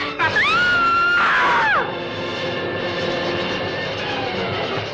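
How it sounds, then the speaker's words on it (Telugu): A loud, piercing scream rings out from a scene in an old Telugu comedy film, rising and wavering for over a second before breaking off, then a low steady rumble carries on beneath. "ఏమిటండి ఆ కేక?"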